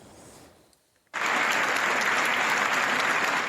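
A large audience at the Palacongressi in Agrigento bursts into applause for Gino Cecchettin, beginning abruptly after a brief hush and then holding as dense, loud, steady clapping that fills the hall.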